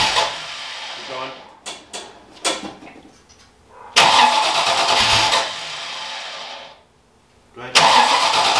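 A 1993 Mustang fitted with a Holley Terminator X cranks in short stuttering bursts, then catches and runs loud and close, dropping out briefly before firing again, with people talking over it.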